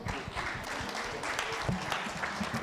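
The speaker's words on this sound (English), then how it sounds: "Round of applause" Audience applause for a leadership discussion panel at a conference, a steady clapping wash filling the room without a break, with a voice briefly heard through it.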